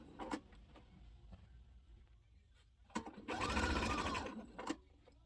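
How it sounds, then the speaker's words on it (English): Sewing machine stitching around the perimeter of a fabric memory bear, with short mechanical bursts and a louder sustained run of stitching near the end, recorded close up. "I'm just going to continue to sew around the perimeter by stretching and pulling and tucking"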